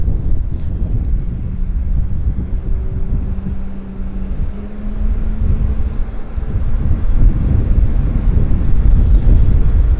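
A WestJet airliner on its takeoff roll at Vancouver airport, heard as a steady low roar of jet engine noise with wind buffeting, continuous and fairly distant, rising slightly in strength toward the end.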